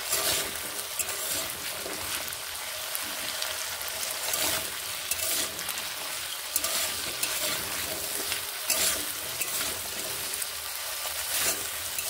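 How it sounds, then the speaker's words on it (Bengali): Potatoes fry over medium heat with turmeric and salt, a dense, even sizzle that continues alone for the whole stretch with faint crackles and occasional stirring scrapes. "হলুদ গুঁড়ো ও নুন মিশিয়ে বেশ ভালোভাবে আলুগুলোকে ভেজে নেব।"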